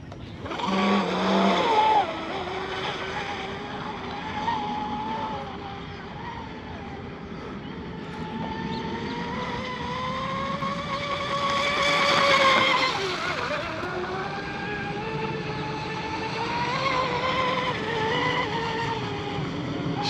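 J&R Marine H26 hydroplane RC boat engine racing at half to three-quarter throttle, a buzzing whine that rises and falls in pitch as it rounds the course, with voices talking over it.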